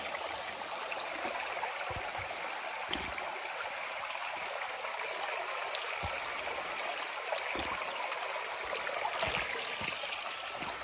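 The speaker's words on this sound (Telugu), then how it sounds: "వర్షం వస్తుంది చూడండి" Rain falls in a forest among hills while water runs steadily, making a constant soft rushing wash with occasional faint drips and taps and no voices.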